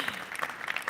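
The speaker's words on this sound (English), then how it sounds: "let's give yourselves a round of applause for being here today" Short burst of audience applause at a celebration event, many hands clapping in a dense, fairly close patter with no voices over it.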